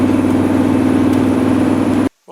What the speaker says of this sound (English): So we got a guy up here who keeps revving up on us.